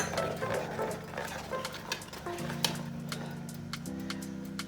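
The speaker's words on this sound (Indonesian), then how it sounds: "masukkan lagi semuanya dan aduk hingga merata" A utensil stirring cheddar cheesecake batter in a bowl, producing soft repeated scraping and tapping strokes at close range over a steady low background hum.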